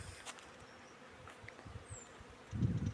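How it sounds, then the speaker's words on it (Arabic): Bees buzz faintly around a tree in full spring blossom, a soft, distant hum under light outdoor noise that ends in a brief low rumble. "النحل يتغذى عليها كثيرا ما شاء الله"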